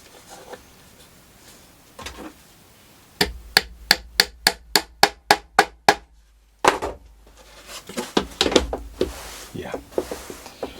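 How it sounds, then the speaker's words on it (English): A hammer strikes a footstool being re-covered, landing about ten sharp, evenly spaced blows with a dull, slightly bouncy impact from the rubber top. A voice talks before and after the strikes. "smack with a hammer"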